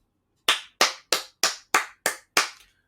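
Seven sharp handclaps ring out alone at a steady, slightly quickening pace, each crisp and close with a short decay and no voices.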